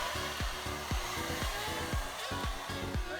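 A heat tool blows a steady, loud roar of hot air onto a car fender before rolling, with a rhythmic pulsing tone that dips and repeats roughly every half second throughout.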